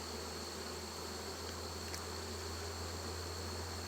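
A dense, steady buzz of many honeybees in an open hive fills the space, constant and close, with a faint high whine throughout.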